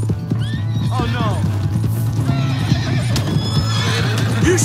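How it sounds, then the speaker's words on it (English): In Red Dead Redemption 2, a horse whinnies loudly while hooves clatter in a steady galloping rhythm, with people shouting over the busy, loud scene. "Hey, shit, my horse!"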